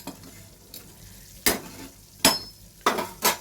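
Gurjaoli fish curry sautés in a pan with a low sizzle, broken by several loud scraping stirs of a spatula spaced a second or so apart.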